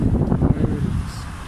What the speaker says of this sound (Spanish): está un día ventoso